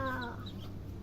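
A chicken gives a short harmonic cluck at the start, close by, and then fades into faint background noise.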